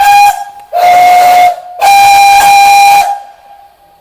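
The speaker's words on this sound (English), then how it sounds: "Here's Great Western Railway 4930 Hagley Hall, who also may whistle randomly during this with a very loud whistle indeed." A GWR 4930 Hagley Hall steam locomotive's whistle sounds very loud and close: a clipped opening blast, then two long shrill blasts separated by short pauses, fading into quiet hiss.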